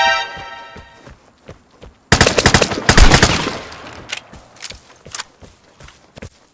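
Gunfire in the online shooter Vigor: a loud, close burst of rapid shots and bangs erupts after quiet footsteps and small clicks, then trails off into scattered thuds and movement.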